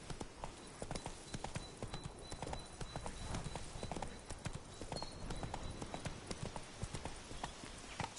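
Roach the horse's hooves clip-clopping at a steady walking gait in Witcher 3, even rhythmic thuds close up over a faint ambient bed.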